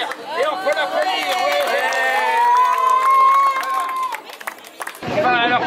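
A street crowd at an Olympic event in Vaires cheers and applauds, with loud mixed shouts and whoops over clapping, then a brief burst of excited voices at the end.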